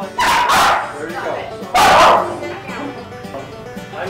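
A hyperactive dog barks loudly twice in close, sharp bursts, with a person talking between the barks.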